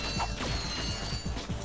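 Crates being smashed in Ratchet and Clank on Novalis, a rapid run of sharp cracking hits, roughly five or six in a row, loud over a constant game soundtrack.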